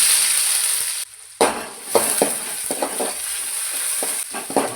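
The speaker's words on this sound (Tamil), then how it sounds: "இஞ்சி பூண்டு நசுக்கி வச்சிருக்கிறத ஆட் பண்ணிடுவோம்" Crushed ginger and garlic dropped into hot oil, a bright frying sizzle that cuts out briefly, then bursts back loud, followed by repeated stirring scrapes and crackling pops close by.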